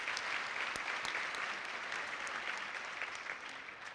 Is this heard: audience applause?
yes